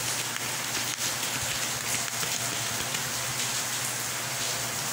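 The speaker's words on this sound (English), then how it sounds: "I like to watch the rain too." Continuous rainfall pattering on surfaces, a constant broadband hiss with occasional distinct drops, close and steady without any talking.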